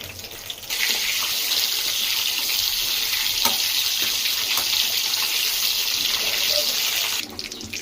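Brinjal pieces sauté in oil for an Ennai Kathirikkai Kuzhambu, giving a loud, steady hiss and sizzle that holds evenly for several seconds, then drops off near the end, with no talk.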